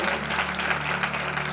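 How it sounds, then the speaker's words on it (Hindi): A church congregation at an 11th annual celebration clapping loudly together, dense, steady applause from a large crowd throughout. "इसलिए आइए प्रभु के लिए जोर से ताली बजाएं।"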